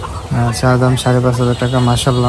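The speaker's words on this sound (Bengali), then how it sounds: "কি সুন্দর মোরগটা ডাকাডাকি করতেছে।" Chickens call and cluck at a fancy-poultry market in Mirpur-1, Dhaka, where silkie hens and fighter roosters are sold, with a few sharp cries rising above someone talking steadily in the foreground.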